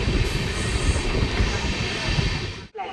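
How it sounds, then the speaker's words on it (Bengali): Sahid Express passenger train rolling through Kamarkundu station, heard from aboard as a loud, continuous rumble of wheels on rail with clattering that drops away sharply near the end. "ট্রেন এখন আমাদের ছেড়ে বেরিয়ে যাচ্ছে কামারকুণ্ডু স্টেশন"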